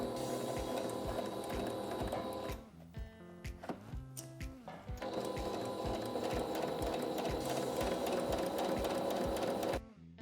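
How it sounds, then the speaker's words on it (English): A sewing machine stitches a narrow baby hem along a folded thread trace line on a smocked dress, running in steady rapid bursts with a brief pause and stop-start stitching in the middle before resuming at full speed. "we're gonna head back to our machine, we're gonna fold on our thread trace line and finish this baby hem"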